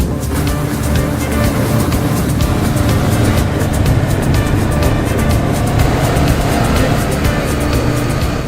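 A Honda CBR500R motorcycle is ridden at steady speed, its loud continuous engine note and wind roar filling the whole stretch without a break.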